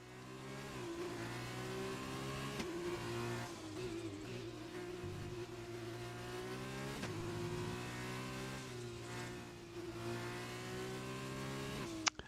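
Open-wheel Super Formula race cars in a sim racing league round at Mexico, engines whining and shifting through rising and falling revs close by, several cars passing, continuous with no talk.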